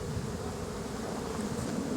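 Honey bees buzz steadily around an open brood box during a hive inspection, a dense, continuous droning swarm close by with no voices.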